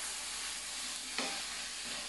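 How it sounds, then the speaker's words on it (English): Chicken sizzles steadily in a hot pan, with a single brief clack of stirring partway through. "it's frying off nicely a little bit now"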